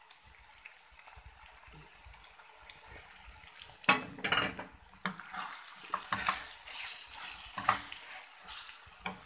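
Onions sizzling in a pan as tomato paste goes in for a white-sauce pasta dish, a soft fry that grows louder and busier partway through with stirring clatter, and no speech.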